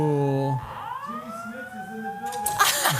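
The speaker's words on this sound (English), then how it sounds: "are we having like a fire alarm?" A fire alarm at a live podcast recording at Star Wars Celebration Anaheim, a loud steady electronic tone holding and sliding in pitch for about two seconds before a burst of noise, with crowd chatter beneath.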